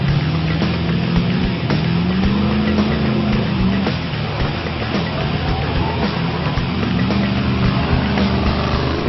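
Homemade performance buggy with a 454 V8 engine and oversized tires running steadily, a loud, rumbling drone with slight pitch swells as the revs shift, close by.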